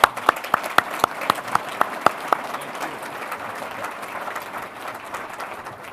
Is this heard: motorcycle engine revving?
no